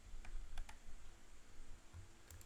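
A computer keyboard pressed for the Alt+/ shortcut in Google Docs: a few sharp, close key clicks spaced irregularly over a quiet background.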